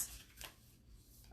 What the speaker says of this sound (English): So I'm going to go ahead and shuffle, pull some cards.